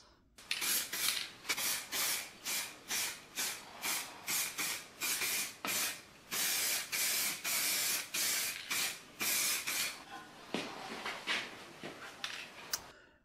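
Rapid bursts of spray paint hissing from a can, short repeated blasts in a steady rhythm, then a few longer sprays, close up.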